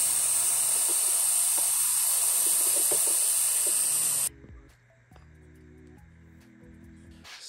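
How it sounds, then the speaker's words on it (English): A glaze spray gun hisses steadily, close and loud, as the middle layer of a third glaze is misted onto a pottery piece, then cuts off abruptly midway, leaving quiet workshop sounds and faint low tones. "I spray the middle layer of the third glaze on there."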